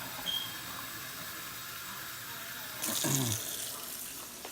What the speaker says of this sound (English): Let me turn off this water.